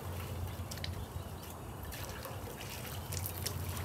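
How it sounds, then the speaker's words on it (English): Water trickles and dribbles into a 55 gallon steel drum in a quiet, continuous stream, faint and close with a low hum underneath. "We're going to add a little bit of water."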